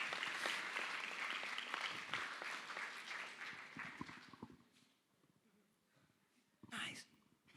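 Audience applause in a talk setting, a brisk burst of clapping that thins out and dies away after about four seconds, followed by quiet room noise and a brief voice near the end.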